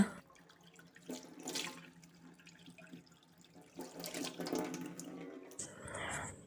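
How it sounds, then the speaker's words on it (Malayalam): Water runs and splashes in a bathroom wash basin while it is scrubbed and rinsed, intermittent gushes and rubbing sounds rising and falling, fairly faint and close. "വാഷ് ബേസിൻ നന്നായി ഞാൻ ഒരച്ച് കഴുകുന്നുണ്ട്"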